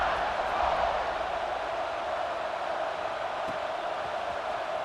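Stadium crowd noise in the video game College Football 26 at a kickoff following a scoring drive, a steady, dense roar of cheering fans that holds at an even level throughout with no clear voices on top.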